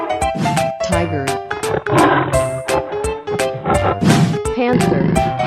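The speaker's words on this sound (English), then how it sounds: "tiger," Toy sound effect of a tiger, loud repeated growling roars in short bursts, close and harsh, mixed with other brief electronic tones.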